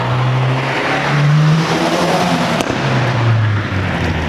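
A 2017 Subaru WRX Limited engine pulled hard under full throttle, a loud close droning roar rising and falling in pitch through the revs, continuous over the whole stretch with no talk.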